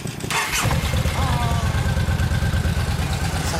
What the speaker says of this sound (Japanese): あのエンジン音聞かせてもらえますか？